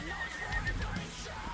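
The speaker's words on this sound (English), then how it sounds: "Just riding this horse around." A horse whinnies and snorts while being ridden in the survival video game Ark, a fairly close, moderately loud neigh over a steady low rumble, with no talking.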